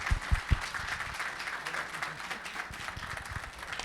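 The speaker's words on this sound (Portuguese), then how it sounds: "uma salva de palmas assim, muito forte, o professor Wilson Kindley Jr." Audience applause welcomes a professor at an academic talk on design in STEAM education, a fairly quiet, continuous patter of clapping with a few low thumps at the start.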